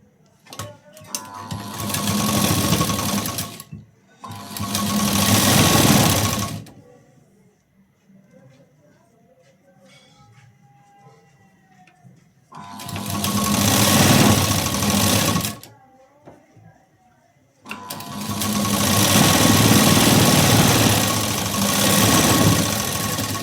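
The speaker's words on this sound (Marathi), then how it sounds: "आता एक शिलाई देऊन घेते." A sewing machine stitches blouse fabric in three long bursts of fast, steady whirring, with quiet pauses between runs and faint handling noises in the gaps.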